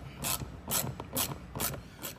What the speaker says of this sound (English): using the long extension and the 10 millimeter, you remove that other screw